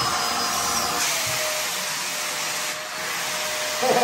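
A powerful vacuum cleaner with an EU-type floor head gives a loud, steady close-up roar of suction. It rises slightly near the start and again at the end, with a brief dip in the middle and no voices.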